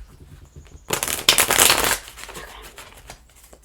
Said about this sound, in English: Let's shuffle once and split the deck.